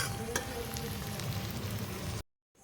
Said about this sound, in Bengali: দেখুন কি সুন্দর ভাজা হচ্ছে